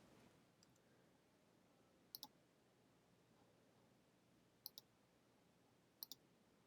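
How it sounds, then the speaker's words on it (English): A computer mouse double-clicks three times, each a quick faint pair of sharp clicks spaced a couple of seconds apart over a quiet room hiss, with no talking. "double clicking required."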